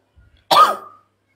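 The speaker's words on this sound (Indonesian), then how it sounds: "Berdehem lah. Itu berdehem." A single sharp throat clearing, close and loud, a short rasp after a couple of faint breathy sounds, in a quiet room with no other talk.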